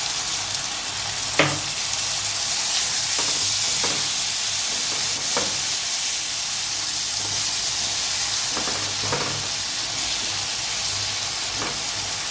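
Butter garlic chicken pieces sizzling in a pan after a little water is added, a loud steady hissing fry with occasional sharp spatters and stirring knocks, continuous and close with no speech.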